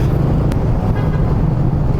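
Dense road traffic on EDSA, heard as a loud, steady low rumble of engines from cars and buses in bumper-to-bumper flow, with a brief toot near the start and no speech.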